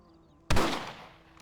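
A single rifle shot in Red Dead Redemption breaks a quiet background: one sharp, close crack with a booming low body that fades over about a second.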